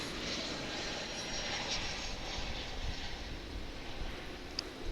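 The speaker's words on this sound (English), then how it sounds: "we've got an incoming flight from Denver." An airliner arriving from Denver at Dallas Fort Worth rumbles steadily as a broad, continuous engine roar that holds at moderate level throughout, with no voices.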